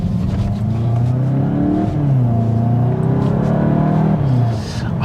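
Volkswagen Golf 8 with a 245-horsepower engine pulling hard under acceleration, loud and close, its revs climbing in two rising sweeps separated by a gear change, with no talking over it.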